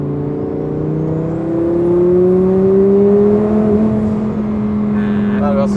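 A rear-mounted twin-turbo engine in an Audi R8 BiTurbo with over 1000 hp revs up from inside the car, its rising drone climbing steadily and holding loud before easing off, with a faint hiss near the end.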